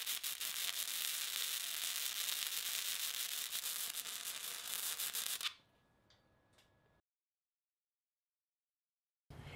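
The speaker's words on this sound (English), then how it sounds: "The welds are all done on 1/8-inch coupons and I'll be doing a 4-inch fillet weld" Flux core wire welding a 4-inch fillet weld on a T-joint of 1/8-inch steel coupons, a loud steady crackling sizzle for about five seconds that cuts off abruptly, followed by near silence.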